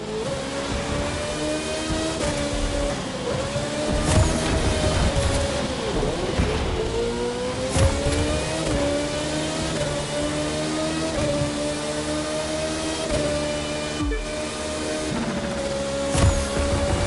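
A racing car engine in the video game The Crew 2 drones loudly and steadily for about seventeen seconds, its revs swelling and dipping in pitch with no break.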